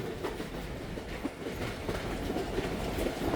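A Rehman express train passing Kambar railway station, heard from on board as a steady rumbling roll with rhythmic clickety-clack of wheels over rail joints at moderate volume.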